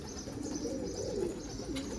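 A runaway pigeon coos softly nearby, a brief low murmuring call over faint outdoor background, with no voices.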